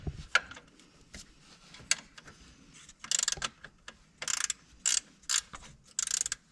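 A ratchet wrench tightens a 13mm bolt on the alternator of a 2013 Dodge Journey 3.6L. Bursts of rapid, close clicking follow one another with short pauses between them.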